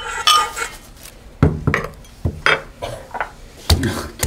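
Ginger and garlic being cracked for dongchimi, a Korean radish water kimchi, with a series of sharp, close knocks and clatters against a hard kitchen surface, irregular and spaced out, with no talk.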